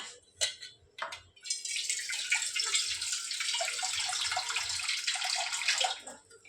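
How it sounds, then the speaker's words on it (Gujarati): Tap water pours steadily into a cooking pot for steaming aubergines, a close, continuous splashing rush lasting several seconds before stopping, with a few light clinks at the start. "હવે મૂકી દઈએ પાણી।"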